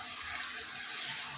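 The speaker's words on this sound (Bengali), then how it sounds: "দিয়ে আমি আলুগুলো কড়াইয়ের মধ্যে দিয়ে দিলাম। একে বেশ কিছুক্ষণ আমি নাড়াচাড়া করে একটু ভেজে নিলাম।" Shredded potatoes frying in very hot white oil in a wok, giving a steady, loud, close sizzling hiss with no one talking.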